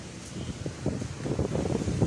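Wind blowing outdoors, a steady rough rumble of gusts buffeting the microphone with some rustling, rising slightly toward the end, with no voices.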